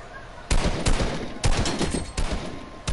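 Gunfire in the video game Fortnite, several loud sharp shots in quick irregular bursts, close and punchy, with no talking over them.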